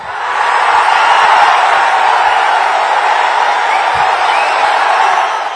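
A large crowd roars and cheers at a political party rally, a dense, loud, sustained wash of voices without pause.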